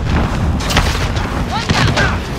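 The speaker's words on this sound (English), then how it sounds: "Grenade!" A grenade explosion in the video game Call of Duty Modern Warfare makes a dull, heavy boom inside a steady wash of gunfire and battle noise, with voices calling out over it.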